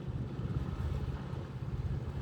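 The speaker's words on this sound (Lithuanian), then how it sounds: "Plaukiam su abiem burėm, bet ir su varikliu, nes vėjas silpnas" A sailboat underway on the sea under both sails with its engine running in light wind gives a steady low rumble mixed with wind buffeting and water wash, continuous and fairly close.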